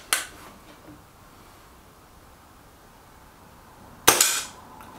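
Two sharp cracks from a Reximex Lyra air rifle fired at a target, one at the start and a louder one near the end, each a brief snap with a short tail, quiet in between.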